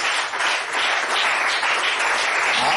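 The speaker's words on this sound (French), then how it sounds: "On acclame le nom de Jésus-Christ" A church congregation applauds during a sermon, producing a steady, dense wash of many hands clapping at once that stays loud for the full few seconds, with no speech rising above it.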